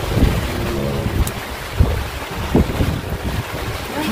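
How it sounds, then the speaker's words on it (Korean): Heavy rain and strong gusting wind on a breakwater at Chujado during a fishing trip, a constant dense roar with buffeting wind noise and a few knocks, loud and close. "빗소리 들리시죠?"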